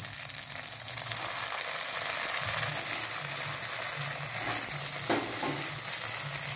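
Food fries in a pan with a dense, steady sizzle that stays loud and even throughout, heard close with no voices.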